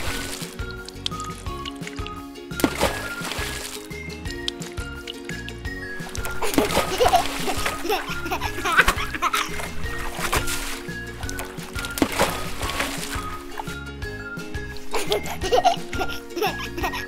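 A baby plays in a small basin of water full of toys, with repeated splashing, pouring and dripping close by, along with giggles and adult talk.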